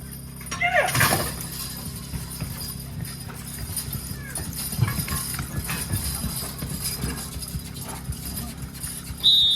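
Draft horses' hooves clopping on the ground at a lightweight horse pull competition, an irregular series of thuds under a constant outdoor background hum.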